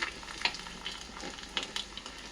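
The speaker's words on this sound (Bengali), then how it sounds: "একটুখানি পাপড় ভেজে দিলাম" Papad frying in hot oil, a close, soft crackling sizzle with a few sharper pops, heard alone at low level.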